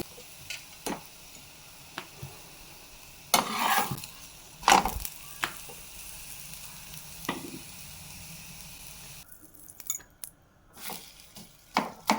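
Bottle gourd paratha frying in oil or ghee on a hot pan gives a steady sizzle, with a few louder bursts of crackle and scraping as the flatbread is pressed and turned.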